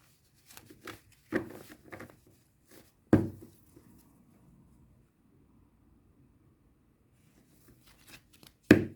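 Oracle cards (les cartes de l'amour) being shuffled by hand, heard as a few short papery riffles and slaps clustered early, then a long quiet pause before a final near flick.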